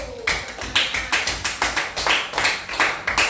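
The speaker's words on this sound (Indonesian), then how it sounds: "Tepuk tangan dulu." A school class claps hands in a steady rhythmic pattern, sharp repeated claps close by, continuing for a few seconds without talk.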